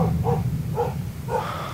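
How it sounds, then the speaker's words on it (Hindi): A dog barks repeatedly in an outdoor area thick with trees. Three muffled, fairly distant barks come at steady intervals over a constant low background rumble. "मुसलसल कुत्ता भौंक रहा है मुसलसल"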